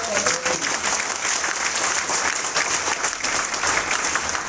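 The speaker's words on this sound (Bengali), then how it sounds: "এত ছোট হাততালি, একটু বড় করে হবে।" An indoor audience claps together at a corporate motivational gathering, a dense, continuous round of applause that stays steady and fairly loud throughout.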